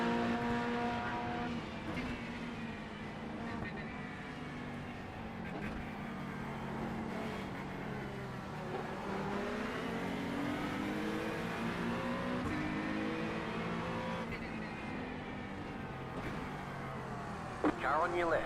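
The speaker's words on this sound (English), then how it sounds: "Heard car on my left and I absolutely shit myself." A race car engine in the iRacing video game, at Bathurst, revs and roars continuously with rising and falling pitch sweeps, while people talk over it throughout.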